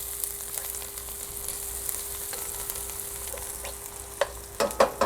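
Garlic frying in a pot for okra beef stew makes a continuous close sizzle and crackle, with a few louder stirring clatters near the end.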